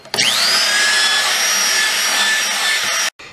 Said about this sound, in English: I'm going to take a drill attachment that I have and just work these nice and round